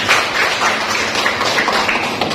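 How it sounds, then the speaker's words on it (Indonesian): Classroom audience applauding a presenting group during a teaching practice session, a short burst of brisk, dense hand clapping at close range, fairly loud and uneven across the couple of seconds. "Tepuk tangan untuk kelompok"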